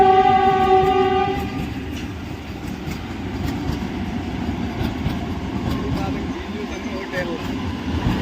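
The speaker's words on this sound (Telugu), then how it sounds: "ట్రైన్ అయితే వచ్చేసింది" Passenger train pulling into a station on the Penukonda to Vijayawada route, opening with a loud sustained horn blast, then a steady rumble and rhythmic wheel clatter, with voices talking nearby.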